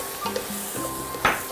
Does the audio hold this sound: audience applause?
no